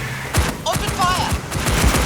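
Rapid gunfire in the video game Aliens: Fireteam Elite, bursts of sharp shots in quick succession with creature shrieks mixed in, loud and close.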